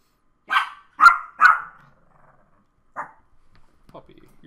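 A dog barks indoors: three quick sharp barks close together, then a single bark and a softer, fainter one after pauses, against an otherwise quiet background.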